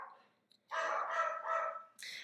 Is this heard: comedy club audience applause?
no